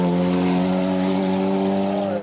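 Honda Civic TC Cup race car climbing a hill course, its engine held at a loud, steady high-revving drone with strong harmonics for the whole stretch, close and unbroken, fading slightly at the very end.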